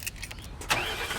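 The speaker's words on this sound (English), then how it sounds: "So he gets up into the truck and he starts the engine" A big rig truck's engine cranks and catches, a sudden loud burst of noise that settles into a steady rumbling run close by, with no voices.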